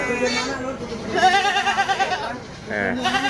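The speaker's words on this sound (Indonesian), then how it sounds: "Ini ada satu rombongan kambing-kambing spek yang mening-mening." Goats bleat repeatedly in wavering, nasal cries at a livestock market in Trenggalek. Several calls overlap in close succession while people talk nearby.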